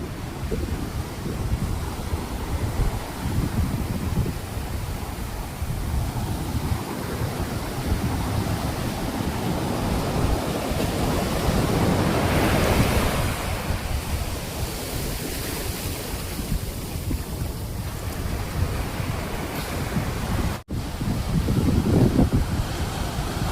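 Water rushes steadily near a bridge at Pakala Beach in Singarayakonda, a continuous broadband roar that swells slightly mid-way and again near the end, with wind buffeting the microphone throughout.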